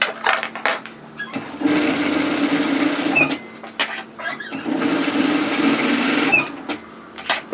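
Domestic sewing machine stitching a hoodie seam, running in two long steady whirring bursts of rapid needle strokes with short starts and stops and handling noises between them.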